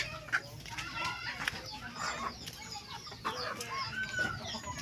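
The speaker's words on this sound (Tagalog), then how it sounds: "Ang mga manok kuya pa ng itlog." Chickens on a farm cluck and call repeatedly in a busy, overlapping flock, close to the recording, with faint background voices.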